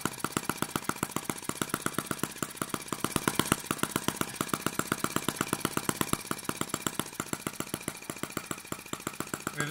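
A Microcosm T1/T26 Chinese model gas tractor engine runs in reverse gear, a steady rapid chatter of even firing pulses, close and constant for the whole stretch.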